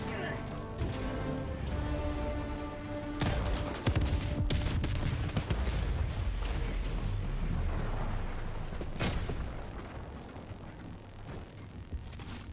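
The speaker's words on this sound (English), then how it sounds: "Requesting orbital strike." Orbital strike explosions in Helldivers 2 boom in a dense, rumbling barrage that continues for most of the stretch. Sharp blasts land near four and nine seconds, with steady battlefield noise throughout.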